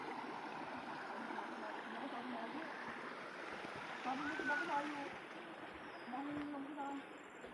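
A clear river runs over its bed in a steady, moderate wash of flowing water, with a faint voice and a few brief splashes and tones mixed in.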